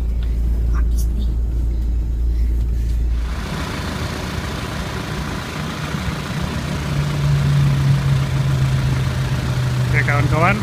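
Diesel engine of a Kia Carnival idling steadily, a constant low rumble close by that continues throughout, with a brief change in tone partway through and no talk over it.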